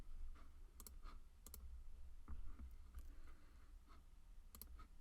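Keystrokes on a computer keyboard while entering sweep values in simulation software: scattered sharp clicks in small bursts over a low steady background hum, moderately close.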